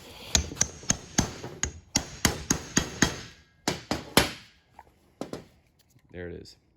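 A hammer pounds a 13/16 socket to press a new bushing on, during front brake work on a 2014-2018 Chevrolet Silverado or GMC Sierra. About a dozen sharp, close metallic blows land in a steady rhythm, then a few scattered strikes and a brief spoken word.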